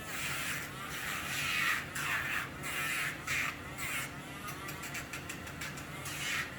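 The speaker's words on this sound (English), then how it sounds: "using a Dremel tool" A small Dremel rotary tool grinding a dog's nail whines in short repeated bursts, cutting in and out against the nail, close and fairly quiet.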